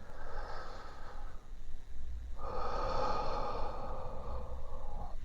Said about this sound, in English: I'm doing one of the breathing exercises on the KOSPET Tank M4.